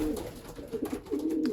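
A racing pigeon numbered 611 coos in a loft, giving low, throaty coos in short repeated bursts close by.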